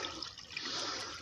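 A brief, faint burst of rushing, gurgling water flows steadily, with no voices.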